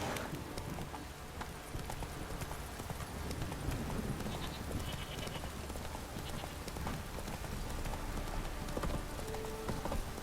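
Roach, Geralt's horse in The Witcher 3, gallops in a quick, steady clip-clop of hooves across the ground, with a dense ambient wash behind and a faint voice now and then.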